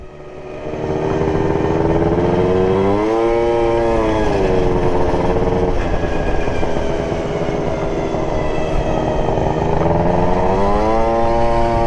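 A loud two-stroke Super Zuma motorcycle engine buzzes nearby, revving up and down steadily with a raspy, high-pitched drone throughout.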